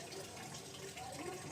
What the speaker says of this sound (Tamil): நல்லா தண்ணியெல்லாம் தெளிச்சிக்கிட்டு இருக்கிறேன்